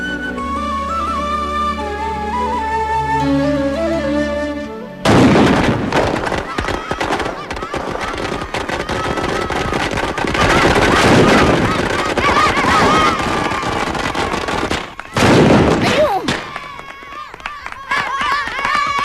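Firecrackers go off on a path near a temple in a Malayalam film scene, with a loud sharp burst and crackling after a stretch of music, then a second sharp bang, while people shout and talk.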